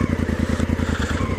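A Honda CRF1000L Africa Twin on its stock exhaust idles up close on off-road terrain, a loud, even, throbbing parallel-twin pulse that keeps a steady rhythm, with no voices.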